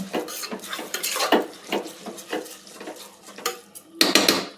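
Rice frying in a pan for home-style tomato rice, stirred with a utensil: close, repeated scraping and clattering strokes against the pan in an uneven rhythm, with a sharper burst near the end and no talking.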